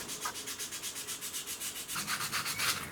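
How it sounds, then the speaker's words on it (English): Sandpaper of 120 then 240 grit rubs back and forth over a wooden watch rim, a steady close rasping stroke repeated rhythmically about six times a second, growing slightly louder near the end. "I finished sanding"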